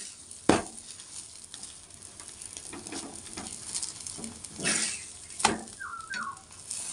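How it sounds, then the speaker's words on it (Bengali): An aloo paratha, a potato-stuffed flatbread, fries in a pan, giving a soft steady sizzle with occasional louder crackles and stirring noises, heard close and quiet with no talking. "আলুর পরোটা যত তুমি লাল লাল করে ভাজবে না, তত খেতে টেস্টি হয়"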